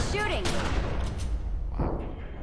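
Bursts of gunfire during a tentacle fight in The Secret World, loud close shots and rattling fire crowding the start, fading into a rumbling tail with a later boom.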